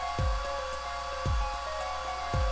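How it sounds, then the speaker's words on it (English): Hair dryer from the Apollo Justice video game drying plaster, a steady electronic whir with a low thump swelling and fading about once a second, close and alone with no talk. "On the next step, dry the plaster until it turns white."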